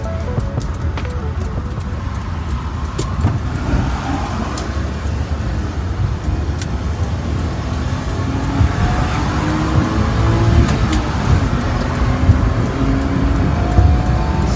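A Honda Acty kei mini truck merging onto a highway: a loud, steady engine drone with road and wind noise from inside the cab, building slightly as it accelerates.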